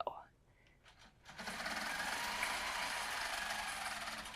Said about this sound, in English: So I'm going to stitch out the first one